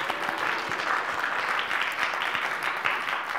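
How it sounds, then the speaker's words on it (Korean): A church congregation applauds together, a dense steady roll of many hands clapping that carries on evenly, heard from inside the room, with faint voices beneath. "박수 한번 해줍시다."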